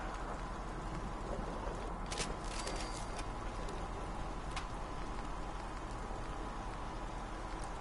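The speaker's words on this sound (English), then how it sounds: "Hope this rain lets up soon." Steady rain falls in the Fallout 4 video game, a continuous even patter on surfaces with scattered brief ticks and drops, constant and moderately loud throughout with nothing else standing out.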